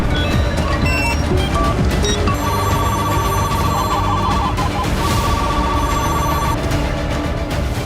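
A mobile phone emergency alert rings out with repeated electronic tones and a sustained, insistent beeping that fills the background.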